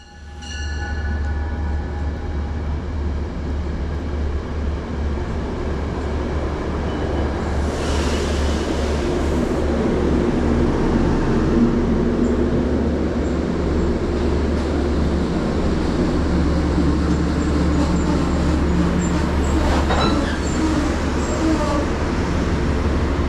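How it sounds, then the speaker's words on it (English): Commuter train 1889 pulls into Merritt 7 station, a loud sustained rumble and rolling clatter with a deep low drone, rising as it nears and staying strong throughout. "that train being 1889, which is seen here arriving at the Merritt 7 station"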